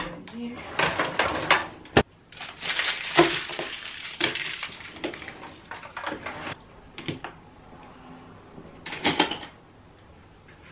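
Someone tidying a room puts things away, with a drawer sliding and knocking shut plus scattered clatters and rustles of objects being handled, interspersed with a person talking.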